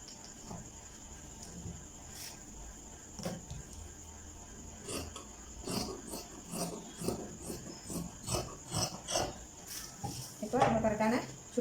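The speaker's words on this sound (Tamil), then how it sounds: "எக்ஸ்ட்ரா துணியை நம்ம கழிச்சு விட்ருவோம்" Scissors snipping through chudidar top fabric, trimming off extra cloth at the sleeve, with repeated crisp cuts and rustling that grow busier toward the end, heard under a steady background hum and some talk.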